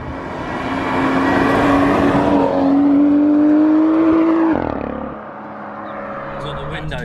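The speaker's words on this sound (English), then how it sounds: "You can definitely hear the exhaust though when you're cruising around" BMW M2 with a Remus exhaust, windows down, pulling hard through a rising engine drone that climbs steadily for several seconds, then eases off into a quieter cruise, with a person talking over the sound.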